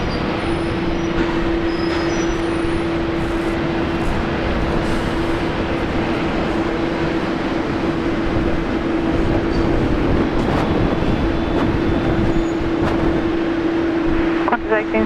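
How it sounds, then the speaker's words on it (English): An Airbus A330 idling at Brisbane Airport, a loud continuous engine roar with a steady tonal hum, a voice talking over it. "Oh, she sounds good. Those A330 are idle."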